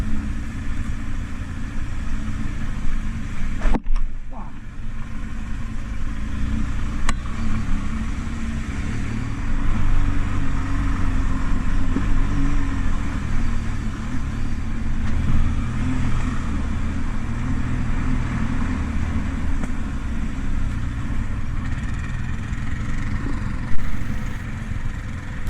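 Engines of a Yamaha Ténéré 700, a BMW 1200 GS Adventure and a Polaris four-wheel-drive quad hum and idle in a low, steady drone near a port in Albania, with a few clunks and no talk.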